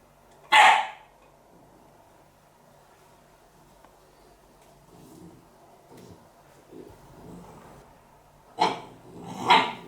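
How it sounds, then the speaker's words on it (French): A puppy gives a sharp bark at the start, then quiet low growls and snuffles, and finishes with two more loud barks close by, no talk. "Oursli, le petit chien qui découvre le monde."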